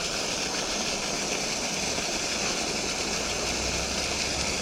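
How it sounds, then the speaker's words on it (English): A garden hose blasts water into a clogged downspout full of dirt, giving a constant, dense rushing hiss with a low rumble underneath, loud and unbroken throughout. "So I'm gonna try blasting that out with the hose."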